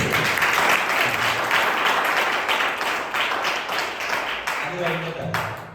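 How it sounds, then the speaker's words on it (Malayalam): Hearty applause from a church youth fellowship audience fills the room continuously, loud and dense throughout with a voice briefly audible near the end. "നല്ല കയ്യടി കൊടുക്കുക."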